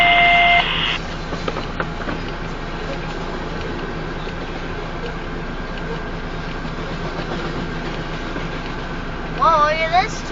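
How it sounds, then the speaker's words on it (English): A southbound Union Pacific grain train rolls past on the Spine Line in Cambridge, Iowa, a steady rumbling rush of railcars heard nearby, with voices chatting over it and a short electronic beep at the start and end. "Whoa, look at this train."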